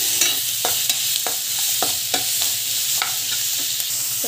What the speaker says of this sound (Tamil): இதில் வந்து பார்த்தீங்கன்னா சீரகம் போட்டுட்டு நல்லா வந்து ஃப்ரை ஆயிடும், ஃப்ரை ஆகும்